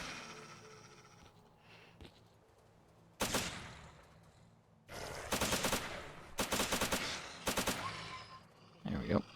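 Gunfire in the S.T.A.L.K.E.R. shooter game while fighting enemies: loud bursts of rapid automatic fire in several separate volleys, with quiet stretches and faint game ambience between them.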